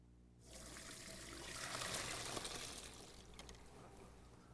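Cooked elbow macaroni poured off into a drain, a steady rushing, splashing stream of water that starts abruptly and runs on, swelling then easing, fairly close with no talking.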